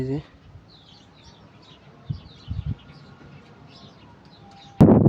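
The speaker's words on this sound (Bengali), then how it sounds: "এই যে দেখেন কবুতর এখন আবার হাইট নিচ্ছে।" Pigeons chirp faintly in the distance over quiet outdoor air on a rainy day, with a few soft thumps and a sudden loud rush of noise at the end.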